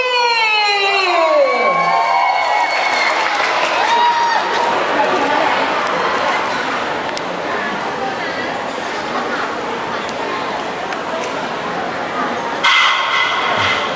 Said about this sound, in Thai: ขอเสียงปรบมือให้กับทีม KKI Double B